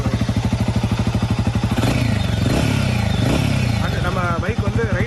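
A 2024 Royal Enfield Himalayan 450 engine thumping at a steady idle, rising into a louder rev with a rushing exhaust note, then settling back, heard close while someone talks over it.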